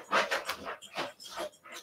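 A dog named Alfie pants close by indoors in quick, breathy bursts, a rapid uneven rhythm of hissing breaths with brief pauses and no talk.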